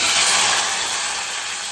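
Garlic and small shallots frying in hot oil in a pan, a loud, steady hiss of sizzling close by, unbroken and without voices.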